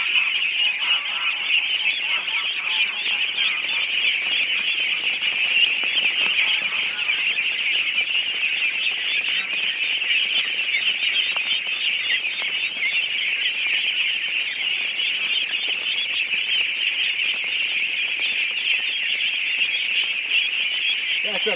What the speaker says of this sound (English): That's a mess of ducklings.